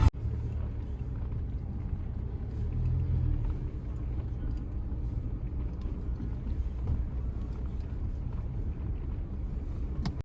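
A car rolls slowly along a rough, puddled forest road, its engine a low steady rumble with muffled bumps and knocks from the uneven ground throughout, fairly quiet and without speech.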